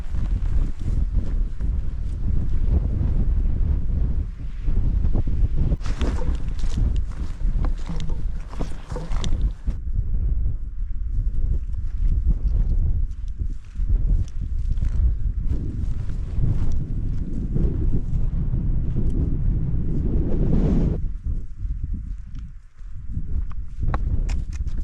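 Strong wind roars steadily on an open Lake District fell near Angle Tarn, buffeting the microphone with gusts and rumbling low noise, alongside faint footsteps on the hillside.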